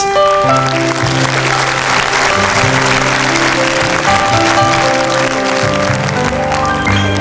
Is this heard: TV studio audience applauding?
yes